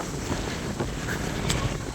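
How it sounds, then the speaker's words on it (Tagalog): Steady, loud wind buffeting the microphone, a continuous low roar with gusty swells and no voices. "Lakas ng hangin"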